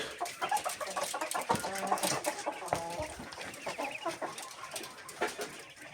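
Hens cluck in a warm, lamp-lit coop where chickens and quail are kept, giving a busy, close chorus of short clucks and calls with a few light knocks.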